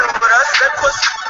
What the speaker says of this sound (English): That's an interesting ringtone.